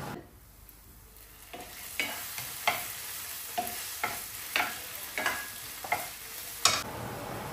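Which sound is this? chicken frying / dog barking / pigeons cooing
chicken frying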